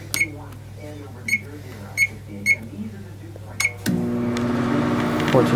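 A vintage microwave oven beeps several times in short, sharp tones over a low hum, then its motor starts with a steady, louder whirring drone.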